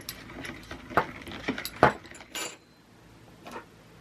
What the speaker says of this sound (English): And I'm going to just mix it up a little bit.